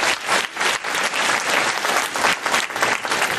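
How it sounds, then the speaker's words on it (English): An audience claps steadily through the whole stretch in a dense, loud round of applause, with no voices rising above the clapping. "a big round of applause for yourself for being here."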